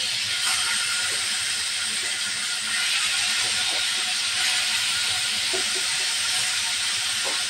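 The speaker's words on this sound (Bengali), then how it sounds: "তেল গরম হয়ে গেছে, দিয়ে দেব মাছ" Koi fish frying in hot oil for a spicy oil-based curry, a steady close hiss and sizzle with scattered small pops and crackles throughout.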